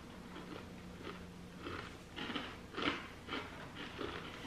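Tatersnaps potato chip cookies bitten and chewed up close, a series of soft crunches in an uneven rhythm that grow a little louder midway, with no talking.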